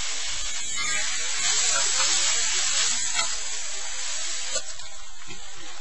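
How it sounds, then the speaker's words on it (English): Beef browning in butter in a skillet gives off a steady, close sizzling hiss that fills the whole stretch without pause, with a few faint crackles and no talking. "we're going to only brown the meat"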